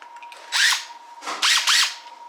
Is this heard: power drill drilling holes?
yes